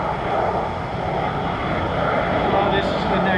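An F-35B Lightning II jet engine powers up during an airshow demonstration, a loud, continuous roar that fills the whole stretch, with the crowd and a voice audible beneath it.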